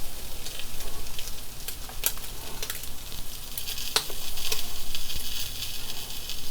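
Small buttermilk pancakes from scratch frying in a pan give off a steady, close sizzle with faint crackle throughout, with no voice.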